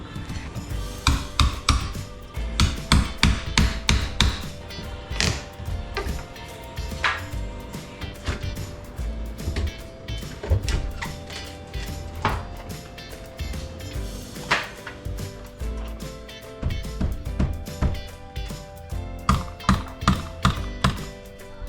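Nailed furring strips being pried off around a sliding door in a rental house, with bursts of sharp taps, knocks and wooden creaks in irregular clusters, close and fairly loud throughout.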